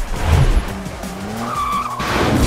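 Tires skid and squeal as cars are driven fast through the streets of San Francisco in the racing game Driver San Francisco, a continuous screeching slide with engine roar, loud and close for a couple of seconds.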